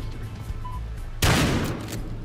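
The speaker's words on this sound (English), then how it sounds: "It's a shotgun, come on." A single loud shotgun blast goes off partway through in the police shooter game Battlefield Hardline, a sharp burst that rings out over quieter game ambience.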